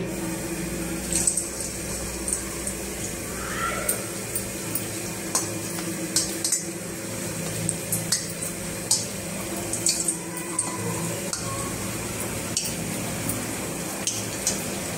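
Sabudana vadas dropped one by one into hot oil in a kadhai, frying with a steady bubbling sizzle, punctuated by small splashes and utensil clicks, close and fairly loud.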